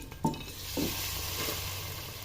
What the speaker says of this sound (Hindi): 4 टेबल स्पून ऑयल ले लिया था, उसका तड़का हम लगाएंगे। ऑयल गर्म हो चुका है